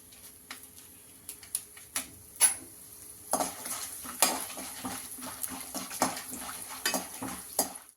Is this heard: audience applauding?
no